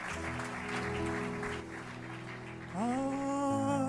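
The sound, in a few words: applause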